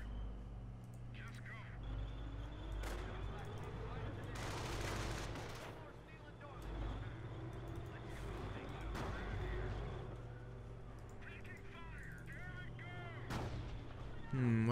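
Anti-tank guns and artillery fire in the Company of Heroes Normandy campaign: booming shots and gunfire bursts repeat over a steady battlefield rumble, with a louder cluster mid-clip and a voice speaking in places.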